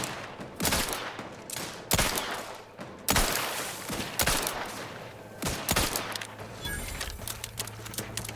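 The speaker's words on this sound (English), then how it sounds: "Let's try the light revolver and see how many rounds I got with that." Light revolver gunfire in the video game The Outer Worlds 2: about eight sharp, loud single shots at irregular intervals, each followed by a short echoing tail, with faint background game ambience.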